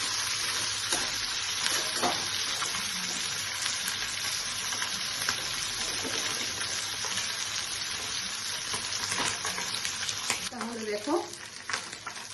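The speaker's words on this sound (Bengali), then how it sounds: "দেখো ফ্রাই হয়ে গেছে। আমি তুলে নিচ্ছি।" Rohu fish head fries in hot oil in a pan, a steady dense sizzle lasting throughout, with occasional scraping stirs and light clinks near the end; no talking.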